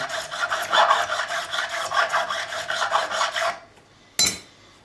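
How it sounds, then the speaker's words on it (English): A profiling file rasps back and forth along a fret on a 2008 Gibson Les Paul Custom to recrown it, giving about ten close, rhythmic strokes, then a pause and one final brief scrape. "we're going to take the profiling file just to remove any burrs and create a nice even"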